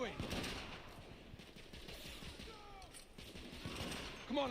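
Gunfire in the video game The Order 1886, a fairly faint, steady rattle of shots with mechanical clicks under background game noise and scattered voices.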